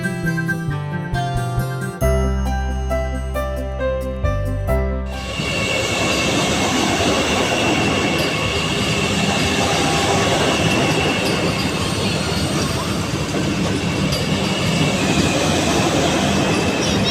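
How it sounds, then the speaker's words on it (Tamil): A Vande Bharat train on its trial run between Madurai and Bengaluru roars past, a loud, sustained rush of rolling wheels and rail noise that follows an opening stretch of music. "குறிப்பிட்ட வேகத்தில் வந்தே பாரத் ரயில் இயக்கப்பட்டது."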